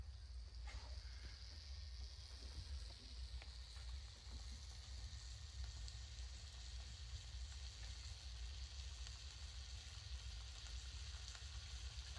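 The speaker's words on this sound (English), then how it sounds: "I can hear that just starting to sizzle." A faint, steady sizzle of turkey frying in a pan on a wood stove in a cabin, with a low rumbling hum underneath throughout.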